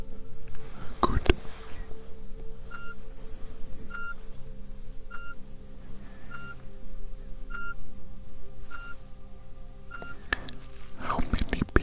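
A series of short, evenly spaced electronic tones from a hearing test in a whispered ASMR roleplay, faint and clean, sounding roughly every 1.2 seconds against a quiet background, with rustling handling noises at the start and end.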